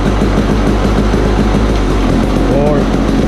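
A rebuilt KTM motorcycle is ridden and run through its gears, its engine droning loud and steady close to the microphone while someone talks over it.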